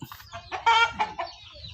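Chickens kept by a villager near community forest land cluck in short bursts up close, with one louder squawking call in the middle. The sounds are clear over faint background noise.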